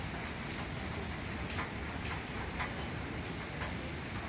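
Steady rain falls outside a hotel balcony in the mountain valley on a cloudy day, a continuous broadband hiss with occasional brief patters, fairly close and unbroken, with no talking.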